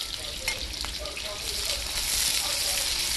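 Onions sizzle in hot oil in a pan for dal chawal kadai, a continuous bright crackling hiss with small pops, fairly close and steady throughout.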